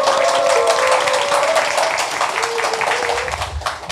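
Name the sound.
audience applause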